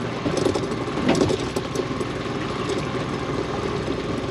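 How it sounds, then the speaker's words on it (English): A fishing boat's engine idles steadily at sea while crab and lobster pots are hauled, a continuous low rumbling drone with a slight surge early on and no talk over it. "Engine's running beautifully."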